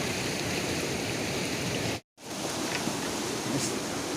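The Kaligandaki River in Nepal rushes past close by, making a steady, full broadband roar with no talking, broken once by a brief silent cut midway.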